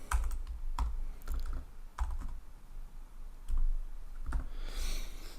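Typing on a computer keyboard, a scattered series of light clicking keystrokes, close and fairly quiet, with brief pauses between bursts.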